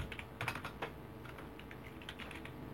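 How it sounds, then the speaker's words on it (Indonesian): Rapid typing on a computer keyboard while entering HTML text, with a dense run of close, light key clicks at an even rhythm and no voices. "Lalu saya pencet B pada keyboard."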